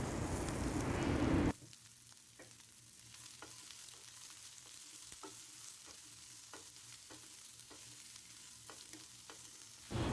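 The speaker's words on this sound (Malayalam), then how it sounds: "അരിഞ്ഞു വെച്ചിരിക്കുന്ന സവോളയും കൂടെ ചേർത്ത് നല്ലപോലെ മിക്സ് ചെയ്ത് കൊടുക്കാം" Chopped onions and green chillies frying in a pan for egg curry, a soft, steady sizzle with light, regularly spaced stirring clicks after an opening burst of louder sputtering.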